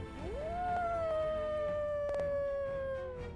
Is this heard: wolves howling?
yes